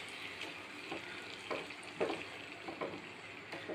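Paalkappa being stirred in a pan after a seasoning of hot oil is poured in, soft scraping strokes at an irregular rhythm over a quiet low sizzle, close and faint.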